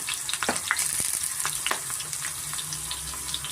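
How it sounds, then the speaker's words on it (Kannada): Brinjal pieces fry in oil with turmeric and salt, giving a continuous close sizzle with a few soft scrapes and taps of stirring, no voices. "ಇದನ್ನು ಸ್ವಲ್ಪ ನಾವು ಎಣ್ಣೆಯಲ್ಲಿ ಫ್ರೈ ಮಾಡ್ತೀವಿ"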